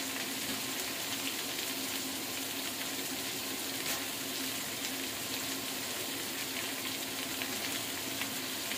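Chicken fried rice frying in a pan, a steady low sizzle with faint stirring scrapes running evenly throughout, no voices.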